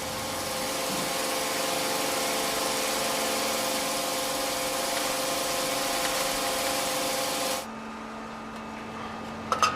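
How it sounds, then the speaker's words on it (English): A pencil factory machine squeezes a wood billet and cuts it into hundreds of very thin strips, giving a loud, steady droning hum that cuts off near the end, leaving a quieter hum. "The billet goes into a machine which squeezes and squashes it even more and cuts it up into hundreds of very thin strips."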